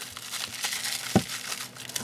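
Plastic packaging around quick-change tool holder cassettes for a TV16 lathe is torn open: close crinkling and rustling with one sharp crackle midway.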